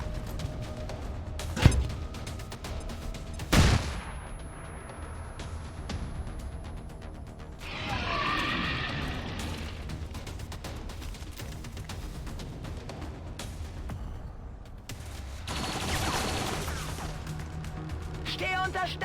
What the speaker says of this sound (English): Stehe unter starkem Beschuss.